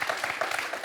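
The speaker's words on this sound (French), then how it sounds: "Moi, Gérard et Dominique, je vous applaudis tous les deux parce que c'était super." Studio audience applause after a head-to-head match on a French television quiz show, a dense, steady burst of clapping at close range with no talk over it.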